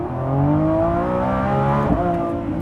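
The 6.5-liter V12 engine of a 2024 Lamborghini Revuelto rumbles close by with a deep, smooth tone, its pitch dipping and settling briefly partway through.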